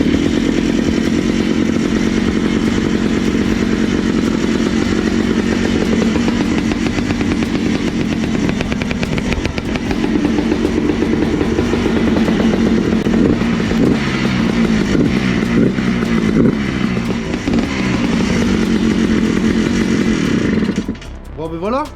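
A Yamaha Blaster quad's two-stroke engine runs loud and close after a piston rebuild, a steady buzzing idle with slight revving throughout, cutting off abruptly just before the end.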